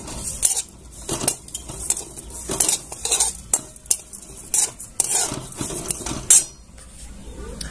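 A spoon scraping and clinking against a pan while gram flour is roasted with a spoonful of sugar, irregular metallic taps and scrapes at close range with no talk.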